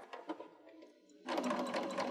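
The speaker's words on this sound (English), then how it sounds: "we're just using our Baby Lock Rachel sewing machine" A Baby Lock Rachel sewing machine stitches a seam on a quilt block. A few soft, quick stitch bursts are followed by a louder, steady run of rapid, rhythmic needle strokes.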